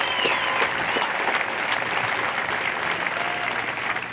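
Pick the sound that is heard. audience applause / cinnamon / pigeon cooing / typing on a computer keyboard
audience applause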